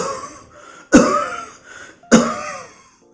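A doctor voices an imitation of an asthmatic cough: two harsh, close coughs about a second apart, each trailing into a long, wheezing exhale that fades out.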